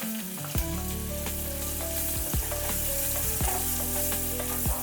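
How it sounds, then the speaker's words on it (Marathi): Finely chopped onions sizzle steadily in hot oil in a pressure cooker for dal fry, with scraping from a spoon stirring at intervals and a faint background hum. "मीडियम साईजचे बारीक कांदा कापून घेतलेला आहे आणि तो परतून घ्यायचा."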